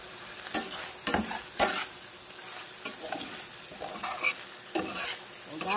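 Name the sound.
fried tofu added and stirred with shrimp in pan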